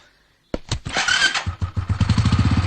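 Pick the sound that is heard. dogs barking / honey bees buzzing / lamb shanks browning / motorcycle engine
motorcycle engine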